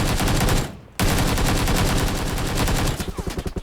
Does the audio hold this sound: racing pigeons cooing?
no